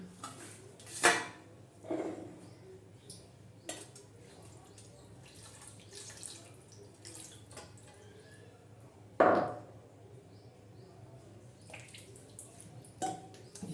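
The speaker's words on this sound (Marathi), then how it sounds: "आता पाट्यावर पाणी टाकून त्या मसाल्याचं धुवून घेऊ" Water splashes and sloshes over a flat stone grinding slab, rinsing off ground masala, in a few sharp bursts, with light knocks and drips between them in a quiet room.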